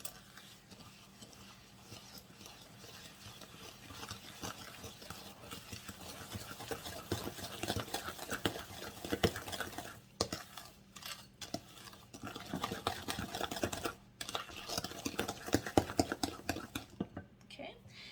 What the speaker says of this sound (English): I'm just going to break up these eggs a little bit.